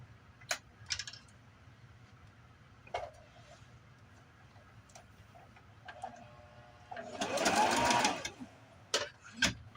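A sewing machine stitches a laundry basket liner with a short buzzing run of needle strokes, surrounded by scattered clicks and ticks of handling the fabric, close by and without talk.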